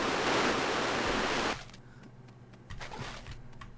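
Rushing water flood in the retro video game Another World: a loud, dense roar of water that cuts off abruptly, followed by quieter scattered clicks and thuds.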